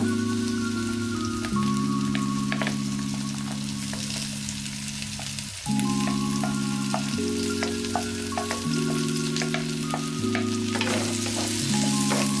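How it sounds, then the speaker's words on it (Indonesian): Tempeh for spicy-sweet orek tempe frying in a pan with shallots and garlic: a continuous close sizzle and crackle with light stirring, over steady background music tones and no speech. "Lalu masukkan bawang merah dan bawang putihnya ya."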